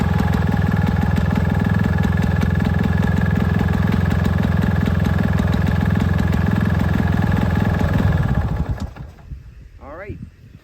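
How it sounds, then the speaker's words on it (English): A Lawn-Boy M-Series lawn mower engine idles low and steady, a close, loud, even puttering that runs for about eight seconds before cutting out and fading to near quiet. "How low the idle goes on this machine. You just hear it puttering away."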